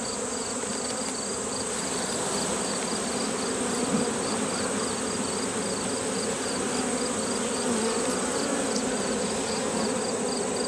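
Honey bees shaken from a hive frame fill the air with a steady, loud, close buzzing that holds unbroken throughout with a bright, even texture.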